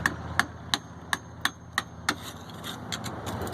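Hammer blows knocking mortar out of a brick wall while making a hole for a doggie door: a rapid series of about seven sharp, evenly spaced strikes, close and ringing, then fainter taps.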